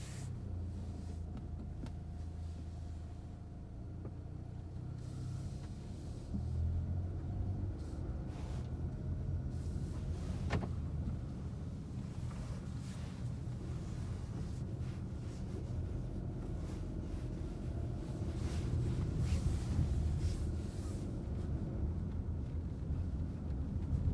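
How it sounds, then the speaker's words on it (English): Cabin of a 2021 Ford Bronco Sport Big Bend on the move, a steady low engine and road rumble with wind noise that swells slightly over time. "All right, test driving the Bronco Sport."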